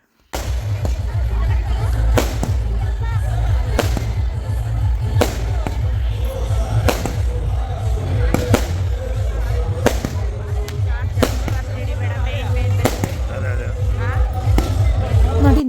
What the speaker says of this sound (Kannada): ನಾವು ಹೋಗೋದ್ರೊಳಗಡೆ ಪಟಾಕಿ ಸದ್ದು ಜೋರಾಗಿತ್ತು. ಅದೊಂದು ಜಲಕ್ನ ನೀವು ಕೂಡ ಕೇಳಿಸ್ಕೊಳ್ಳಿ.